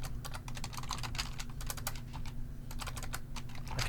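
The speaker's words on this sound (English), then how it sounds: "I cannot type this morning." Steady typing on a computer keyboard, close and fairly quiet, with a dense run of clicking keystrokes that briefly thins out midway before resuming over a low background hum.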